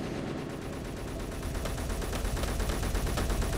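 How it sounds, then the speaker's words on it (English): Assault rifle fire from the Space Engineers video game, a dense, steady crackle of rapid shots amid crossfire, loud and continuous with no talking. "There's a bit of crossfire going on here as well."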